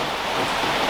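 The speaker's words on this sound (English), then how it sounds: "I got caught doing chores in the rain, so I'm all wet" Steady rain falls in a dense, even hiss, close and fairly loud, alone without voices.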